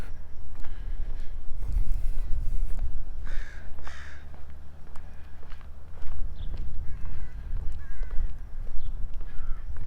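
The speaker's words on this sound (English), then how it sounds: "You can probably hear those crows." Crows caw in a few short bursts over an outdoor walk along a road and storm channel near the Grow Regina Community Gardens in Regina, with steady footsteps and faint outdoor ambience.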